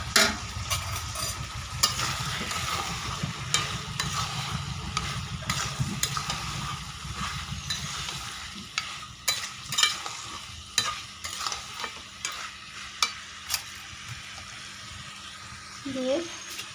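Boiled desi chicken and fried potatoes stirred in a hot pan in a village kitchen, with steady sizzling and repeated scraping of a spoon, louder at the start and settling into intermittent stirring scrapes; no talk.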